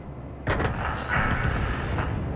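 A heavy Rheinmetall Panzerwagen tank cannon blast in a video game booms out, followed by a second report and a rumbling tail, with game-like effects over a quiet background.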